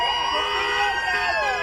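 Wailing emergency sirens, several overlapping tones sweeping up and down, loud and sustained.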